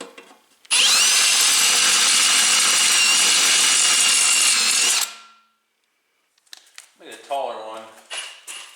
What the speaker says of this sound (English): I'm going to drill these holes at 5/16, which will be the 3rd step on the drill here.